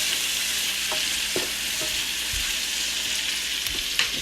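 Turkey and zucchini are stirred in a pot over a constant loud sizzle, with a few scattered scrapes and knocks from the utensil against the pot.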